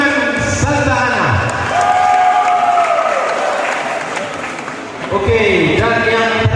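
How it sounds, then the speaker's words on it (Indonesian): Applause and crowd noise at a Santa Ana neighborhood church event featuring local-food and flower-arranging contests, a steady wash of clapping lasting several seconds, with cheering and voices mixed in before it dips near the end and swells back. "mari kita berikan tepukan tangan yang meriah untuk lingkungan Santa Ana."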